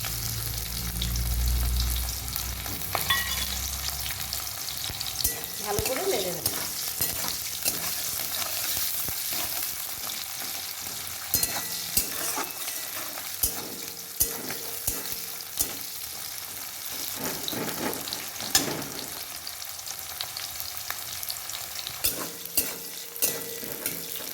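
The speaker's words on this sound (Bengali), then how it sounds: "পেঁয়াজগুলো মোটামুটি ভেজে নিয়েছি সিদ্ধ করা আলুটা দিয়ে ভেজে ভেজে" Chopped onion and garlic fry in hot oil in a pan with bay leaf and whole cumin, a steady close sizzle running throughout with clinks of stirring and scraping, no voices.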